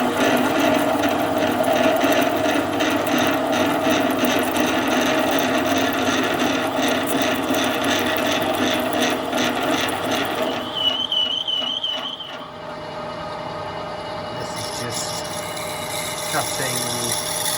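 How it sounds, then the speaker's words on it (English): A power drill bores a hole through a go-kart wheel, a loud grinding, ratcheting whine holding steady for about ten seconds before easing into a quieter rasping hum, with a voice heard faintly at times. "just drilling a hole through this"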